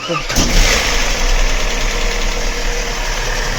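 Opel Vectra C 2.2 engine starting for the first time after timing chain replacement, catching quickly and settling into a steady, loud idle close by.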